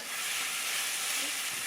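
Pork fries in a pan with a loud, even hiss of sizzling fat, close and steady throughout the short stretch.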